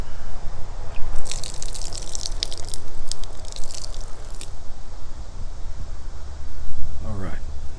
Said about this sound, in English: Every time I do the water flush, I'm trying to blink and get it in as deep as I can.